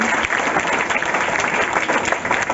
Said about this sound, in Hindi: एक जोरदार ताली रोशन जी के लिए।